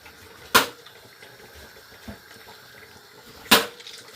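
Thawed spinach is squeezed by hand over a kitchen bowl, giving two brief wet splashes of dripping water a few seconds apart, with faint handling noise in between.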